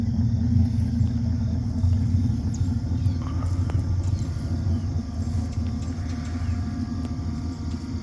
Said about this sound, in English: people think that's a V8 when they hear it idling. But it's just a slant 6 with dual flow masters.